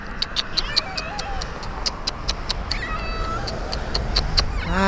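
A cat meows repeatedly, with several short, clear meows rising over steady outdoor background noise near a roadside.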